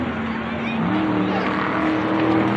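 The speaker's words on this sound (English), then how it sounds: "he revs his Charger SRT" A Dodge Charger SRT engine roars steadily and loudly at close range, revving with a sustained low growl that rises slightly toward the end.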